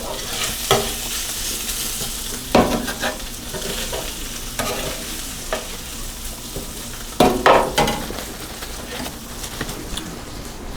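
Cheese steak meat sizzling on a hot griddle while being stirred and mixed, with a steady fry hiss broken by several loud scraping, clattering spatula strokes, close and without talk.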